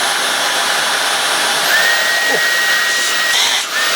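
Dyson V11 Absolute cordless vacuum cleaner running close by, a loud steady high-pitched whine and airflow rush whose pitch steps up partway through as the motor changes speed.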